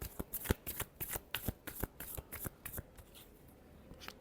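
Crisp riffling of a tarot deck being shuffled, a quick run of close, sharp card flutters and snaps that thins out near the end.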